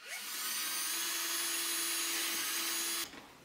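A power drill whirs steadily at high speed for about three seconds while drilling strap holes in a ram headdress mask, then cuts off abruptly, leaving a brief low rattle.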